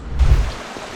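Waterfall at an outing near Kadıköy: a steady, dense rush of falling water, loud and broadband, with a heavier low surge early that eases into an even wash.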